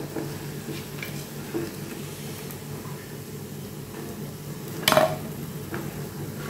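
Raw jackfruit fritters get a second fry in hot oil, giving a steady low bubbling sizzle with a brief clatter of utensils midway.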